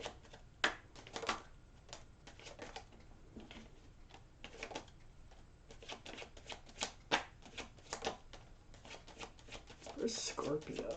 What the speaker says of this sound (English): I always put the cards down in the same order that they come out of the deck